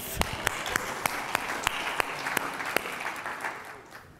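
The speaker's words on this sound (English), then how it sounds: "Clap for AV." A tech conference audience claps for the AV crew at a keynote, a fairly faint patter with a few sharp individual claps standing out in a steady rhythm, fading toward the end.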